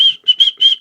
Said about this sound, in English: You can shout, you can whistle, you can wave.